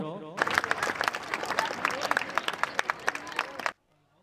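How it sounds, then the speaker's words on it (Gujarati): An audience at a primary school function in Alina breaks into dense, close applause to welcome a teacher and guide. It starts right after a brief voice, claps steadily for about three seconds, then stops abruptly. "તો આપણે એમને તાળીઓના ગડગડાટથી વધાવી લઈશું"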